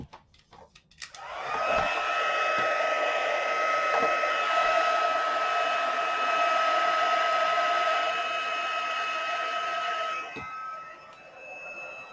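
A hair dryer blows steadily for about eight seconds, drying watercolour paint on a flip-flop painting, its loud whine with a clear pitched hum starting abruptly and then cutting off.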